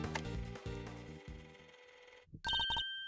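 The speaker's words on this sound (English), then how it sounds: "Mr. Edgeworth, that's Judge Gabel's cell phone." A cell phone ringtone played back from a tape recording in the Ace Attorney Investigations game, first a series of ringing tones, then a brief pause and a sharper electronic trill that repeats several times.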